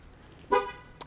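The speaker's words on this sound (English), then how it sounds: "And then it beeps when it's done" A Nissan Titan's upgraded taillight wiring gives a short, sharp electronic beep, followed by a quieter brief chirp about half a second later, close by and otherwise quiet.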